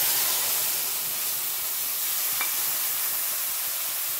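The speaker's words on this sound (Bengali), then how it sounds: "এখানে কালো জিরে দিয়ে দিচ্ছি" Nigella seeds hit hot mustard oil in a pan left from frying fish, and a loud, steady sizzling hiss follows. It is close and continuous, with no talk.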